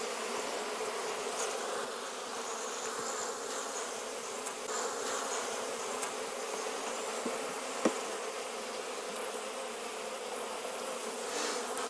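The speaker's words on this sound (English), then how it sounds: "They're loud, kind of nervous acting" A nervous honey bee colony with nectar and pollen but no eggs, its bees running and flying a lot. It makes a loud, dense, continuous buzz close by, steady throughout with no talking.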